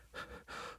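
Heavy, ragged panting from a man struggling for breath, two or three strained gasping bursts close and fairly quiet, with no talk.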